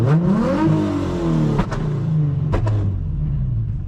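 A car with a 350 engine revving hard under the throttle, a loud close rising roar that settles into a deep rumble, with a couple of sharp knocks partway through.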